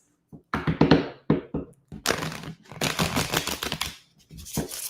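Quick riffling bursts of tarot cards being shuffled, several separate flurries of papery flicks and taps, close and crisp with short pauses between.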